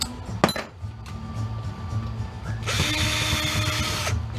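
A power drill whirs close up while backing screws out of the side of a Dell 19-inch LCD monitor being scrapped, with a metallic clink followed by a louder, steady motor whine.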